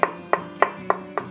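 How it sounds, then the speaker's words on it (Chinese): A knife chops shiitake mushrooms into strips on a cutting board, five crisp evenly spaced strokes that sound close and clear, with no talking. "把我们的香菇切成条状。"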